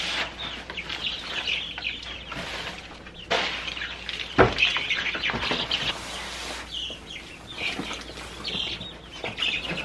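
Young chicks in a brooder chirp and peep in a steady high twittering, with scattered fluttering and scratching in wood-shaving bedding close by.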